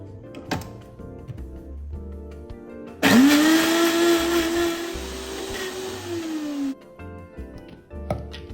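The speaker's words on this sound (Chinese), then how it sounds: "然后搅成泥状。" A blender whirs loudly for several seconds, pureeing prawns, garlic and water into a paste, starting abruptly and cutting off, with soft clunks before and after.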